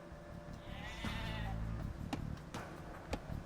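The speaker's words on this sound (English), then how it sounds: "You've found some sheep." Sheep in the video game Age of Empires II, a single clear, wavering bleat, followed by a few soft clicks and taps from game sounds.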